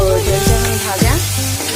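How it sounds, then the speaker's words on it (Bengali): Potato, onion and tomato frying in a wok, a loud close sizzle broken by two spatula stirs scraping through the pan. "দিয়ে আলু পেঁয়াজ আর টমেটো দিয়ে ভালো করে ভাজতে দিয়েছি।"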